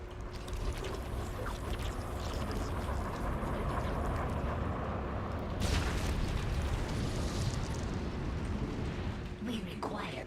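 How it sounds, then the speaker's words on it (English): Missile explosion in a real-time strategy video game: a dense, sustained roar of blasts and rumbling debris fills the whole stretch, with a sharper burst partway through and game voices faintly mixed in. "Another missile incoming."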